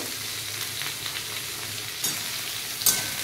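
Ridge gourd pieces frying in a pan for a home-style mixed vegetable dish, an even close sizzle with a couple of brief clinks of the stirring spoon near the end.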